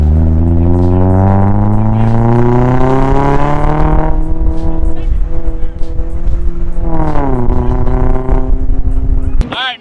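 A Mazda Miata engine revs up hard and close during a manual driving lesson, pitch climbing steadily through a gear, dropping at a shift, then rising again before cutting off abruptly near the end.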